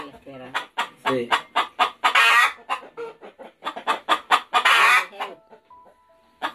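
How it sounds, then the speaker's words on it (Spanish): A hen clucks repeatedly at close range, a rapid run of short choppy calls with a couple of louder drawn-out squawks, faint background noise and no clear talk. "ahí está la gallina"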